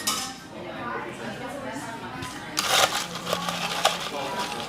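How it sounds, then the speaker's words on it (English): Ice clinking and rattling in a glass as a cocktail with orange bitters is stirred down at a resort bar, light tinkling taps under background chatter and voices. "And we're gonna stir this one down."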